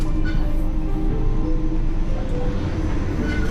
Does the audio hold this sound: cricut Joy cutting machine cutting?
no